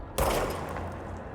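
Gunfire in the video game Control: a sudden sharp volley bursts in after a brief quiet moment, then trails off into a rattling, echoing tail.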